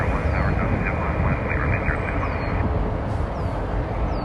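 An Airbus A380 heavy jet on landing at Toronto Pearson produces a loud, steady, broadband engine roar throughout, close and continuous, with faint high whistling tones.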